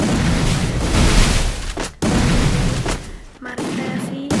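Loud gunshots in a video game while aiming for a headshot, with dense roaring bursts of fire broken by short pauses, close and continuous.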